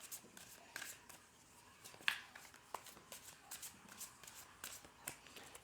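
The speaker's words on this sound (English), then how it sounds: "I'll just give them a little bit more of a shuffle and we'll do the second row." Tarot cards are shuffled by hand, giving soft scattered riffles and light taps with one sharper snap, quiet and close with no talking.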